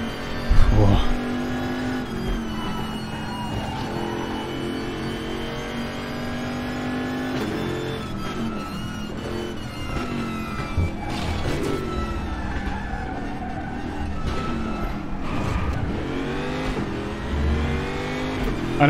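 A GTR3 Camaro race car in the RaceRoom video game, driven around Mount Panorama, drones steadily with a loud sustained engine note that rises and falls through gear changes, with a voice talking over it throughout.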